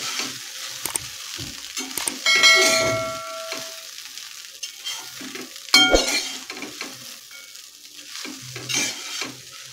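Soaked, softened poha is stirred in a hot pan, with repeated scraping strokes, light clinks of a utensil on metal and a faint sizzle, heard up close without speech.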